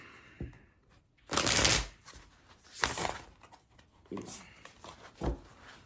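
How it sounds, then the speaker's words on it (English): A deck of classic horror oracle cards is shuffled in a few separate bursts, each a short, close, papery riffle followed by a quiet gap. "I'm going to pull an oracle card from the classic horror oracle"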